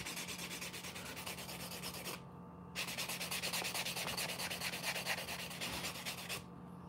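Nail file rasping back and forth on fingernails during a manicure, producing a steady, close, fast scratching rhythm that stops briefly twice.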